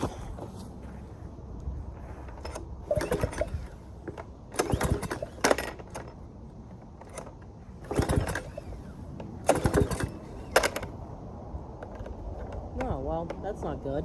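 A pressure washer engine, drained of oil and cleaned, gets several pull-starts: a few separate rough, rattling bursts that do not catch, with quieter gaps and a voice between them.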